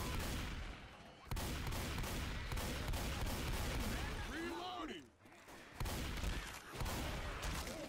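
Near-continuous gunfire in a Left 4 Dead 2 zombie battle, dense rapid shots and bursts with a brief lull midway before the firing resumes, mixed with game noise.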